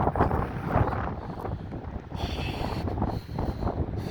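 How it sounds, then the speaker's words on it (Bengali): Strong, cold mountain wind on the trek route to Gomukh buffets the microphone in steady low rumbling gusts, rising and easing over a few seconds, with no voices. "ভীষণ প্রচণ্ড হাওয়া দিচ্ছে, প্রচণ্ড হাওয়া, ঠান্ডা হাওয়া।"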